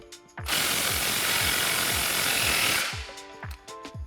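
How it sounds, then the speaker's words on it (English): A hand ratchet with a 15mm socket snugs down a clamp on a car's driver's side exhaust tailpipe, giving a loud, steady run of close, rapid clicking that stops abruptly, followed by a few scattered metallic taps. "And then we can take a 15mm socket to loosely secure this clamp as well."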